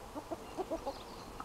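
A large rooster in Portugal's Algarve clucking in a short series of soft, irregular notes, fairly quiet and close, with no talk over it.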